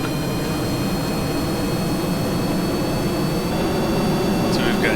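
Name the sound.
spaceplane jet engines launching on runway, Kerbal Space Program video game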